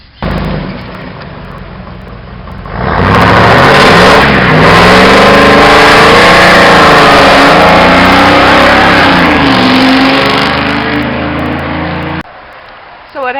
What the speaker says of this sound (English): I'm going to drive this pile 172 miles to Gas City, Indiana